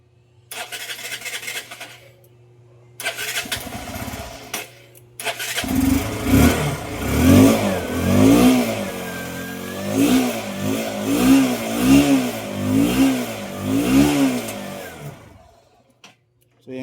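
A Bajaj Rouser NS 160 motorcycle cranks on its electric starter in short attempts, then fires up and idles unevenly, revving in a series of rhythmic pulses close by before cutting off.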